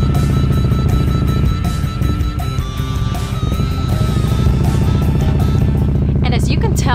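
Motorcycle engines rumbling and revving at the Sturgis Rally in rolling hill country: loud, continuous low engine drone with rising throttle bursts, close by, with voices partly mixed in.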